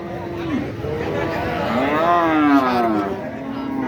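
A cow moos loudly at the Talgachhi cattle market in Shahjadpur, Sirajganj, one long wavering bellow rising and falling over a background of crowd chatter.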